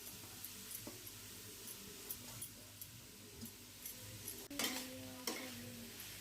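Grated cabbage with onion and spices fries over high heat in a little mustard oil, giving a soft, quiet sizzle broken by intermittent scraping stir clicks and a louder burst of stirring near the end.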